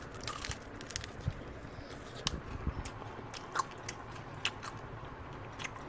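Close, crisp crunching bites followed by steady chewing of crunchy fried Wingstop chicken drumsticks, with sharp irregular crackles and no talking.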